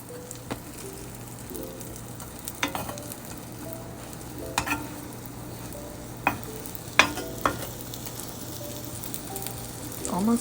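Battered food fries on a hot pan over low heat, a soft, continuous sizzle with scattered utensil clicks and scrapes as it is turned, no voices.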